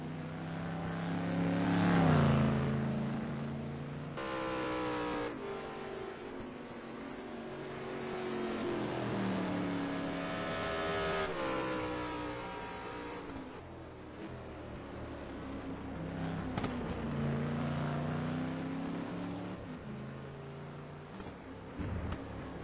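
Touring race cars at Anderstorp scream past one after another, engines revving hard and rising then falling in pitch as each passes, loud and sustained with no voices.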